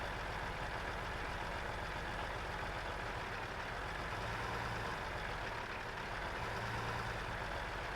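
A Peterbilt 579 truck engine sound from an FMOD project idles in a smooth, steady low rumble, continuous and even throughout with no talk.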